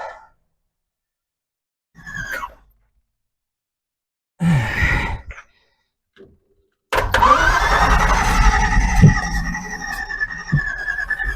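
A 1950s Chevy small block with worn distributor bushings and sticking points cranks in short bursts separated by silence, then fires and keeps running unevenly with a rough, loud idle up close.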